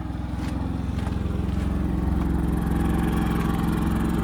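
A Predator 3500 portable generator running near the back of a camper with its exhaust facing away, a loud, steady low engine drone with an even pulsing throb and no talk.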